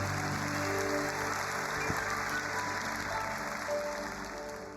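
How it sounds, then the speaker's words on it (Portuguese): Church congregation applauding, a dense, steady wash of many hands clapping at moderate distance over a low hum of the room. "Pode aplaudir o Senhor."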